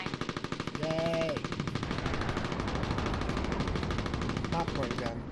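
Rapid machine-gun fire rattles in the Mercenaries video game, a dense, loud stream of evenly spaced shots with a brief voice breaking in partway through.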